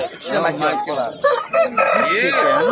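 Chickens and chicks at a busy bazaar, with crowing and clucking calls layered over one another, loud and close, while people bargain and talk over the birds throughout.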